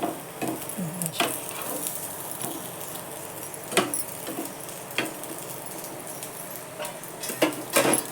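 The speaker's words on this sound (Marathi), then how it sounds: "मस्त दोन्ही बाजू चांगल्या हळूहळू आलटून पलटून भाजू द्यायच्या" Soya cutlets pan-frying slowly, turned from side to side: a low, steady sizzle runs under repeated sharp clinks and scrapes of a spatula against the pan, with no talking.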